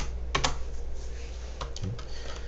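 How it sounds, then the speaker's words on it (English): Keystrokes on a computer keyboard while a help command is entered in the Matlab command window: a few quick clusters of clicks separated by pauses, close and fairly soft over a steady low hum. "typing in help in the command window"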